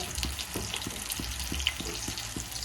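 Fish curry fries in a pan in a home kitchen with a soft, steady sizzle. Faint regular taps, like a utensil against the pan, fall about twice a second.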